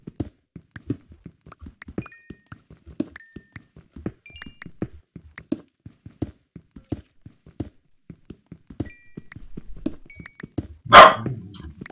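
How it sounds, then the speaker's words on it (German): A dog barks a few times over Minecraft gameplay, where a steady run of sharp clicks and thuds from block-digging and footsteps continues, ending with a louder burst of noise. "Kurze Unterbrechung, der Hund bellt"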